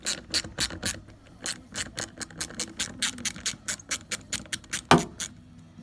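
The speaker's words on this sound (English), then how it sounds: "So it's just got 4 2mm Allen head bolts in. Take all 4 of them out." Rapid ratchet clicking, close and loud, as a ratchet backs out small 2mm Allen head bolts from the anti-dive fork casing of a 1987 Honda CBR600F, with about twenty even clicks alone and one harder snap near the end.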